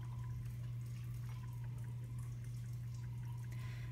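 Water is poured steadily into a sample container during a biological oxygen demand lab test, making a soft continuous trickle and splash over a constant low electrical hum, with no voices.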